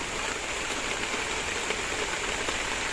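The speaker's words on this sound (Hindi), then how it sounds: "तो बारिश आ गई है" Steady rain falling outdoors on a rainy day, a continuous fairly quiet hiss with faint scattered drip taps on surfaces and no voices.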